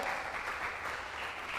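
A church congregation applauds in a steady, even wash of clapping that holds at a moderate, slightly distant level for under two seconds, with no voices standing out.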